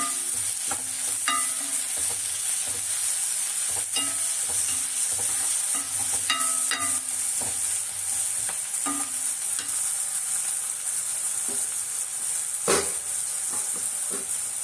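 Onions sautéing in a pan for a Tamil-style ravai and tomato white kurma, with a steady close sizzle and repeated stirring scrapes and clinks of the spoon against the pan throughout.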